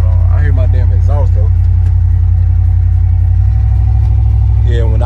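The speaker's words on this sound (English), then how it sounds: "I hear my damn exhaust" A deep, steady exhaust rumble drones from inside a car while someone talks over it, the low tone shifting partway through.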